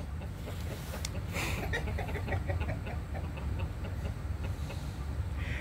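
Four-month-old chickens cluck softly in a quick, scattered series over a low, steady background rumble, fairly faint and without any talking.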